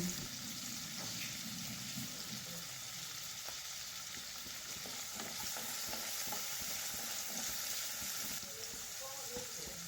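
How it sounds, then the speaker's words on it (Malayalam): Onion, ginger, garlic and green chilli being sautéed in a pan for a vegetable kurma, giving a steady close sizzle with light stirring scrapes throughout. "ഇതിലേക്ക് നമ്മൾ അരിഞ്ഞു വെച്ച ഉള്ളി ഇഞ്ചി വെളുത്തുള്ളി പച്ചമുളക് എല്ലാം ഇട്ടിട്ട് നല്ലോണം വഴറ്റിയെടുക്കാം"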